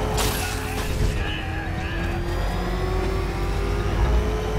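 Batmobile in Batman: Arkham Knight revving hard, a loud, continuous engine roar with rising and falling pitch over steady road rumble, close and sustained throughout.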